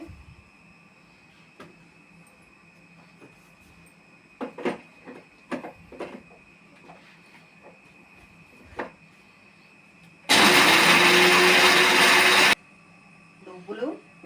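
A mixer grinder whirs loudly in one short burst of about two seconds, blending sesame seeds and raisins into milk, with quiet clinking and handling sounds before and after.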